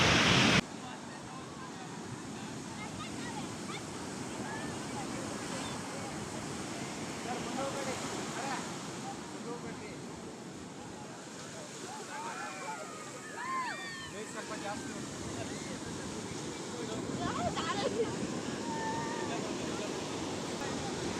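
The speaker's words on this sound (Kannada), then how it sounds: "ಸಿಕ್ಕಾಪಟ್ಟೆ ಅಲೆ ಐತೆ" Sea waves wash in at Eco Beach near Honavar, a continuous broad rushing roar with gentle swells, mixed with gusty wind buffeting the microphone.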